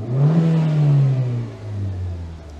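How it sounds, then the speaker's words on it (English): A Renault Avantime engine idles and is revved: a steady low drone rises in pitch as the throttle opens, then falls back toward a lower hum, close and fairly loud with no talking. "Let's start the engine."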